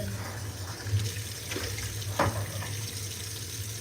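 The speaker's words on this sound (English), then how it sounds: "I want to rinse them out real quick." Tap water runs into a sink as silverware is rinsed, a quiet continuous splashing stream with a couple of brief clinks and knocks.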